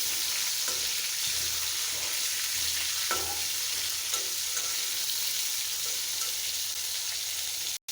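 Hilsa fish frying in hot oil, a constant close sizzle with a few soft clicks and scrapes of stirring, ending abruptly.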